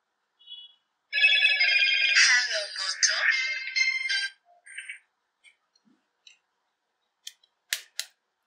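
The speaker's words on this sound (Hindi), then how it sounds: "जब भी आप लोग फोन को ऑन करोगे तो कुछ आपको हेलो मोटो करके साउंड है" A Motorola A10 feature phone plays its short "Hello Moto" electronic startup jingle of bright sustained tones for about three seconds, followed by a few brief soft beeps and clicks.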